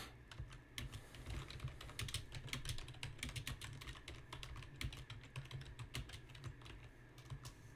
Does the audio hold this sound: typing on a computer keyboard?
yes